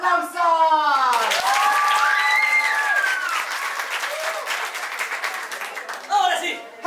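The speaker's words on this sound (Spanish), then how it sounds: "Vamos a calentar también esos aplausos." A television studio audience warms up with loud, sustained applause, a crowd of hands clapping together while a voice rings out with long drawn tones over the top before the clapping thins near the end.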